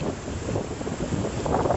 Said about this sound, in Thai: แต่ลมก็แรง